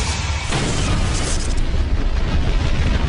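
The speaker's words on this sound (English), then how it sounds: "The explosion blows out one of the inner panels." The center wing fuel tank of TWA Flight 800 exploding, a sudden loud roaring blast that swells into a dense, sustained rumble and hiss close by, with no talking.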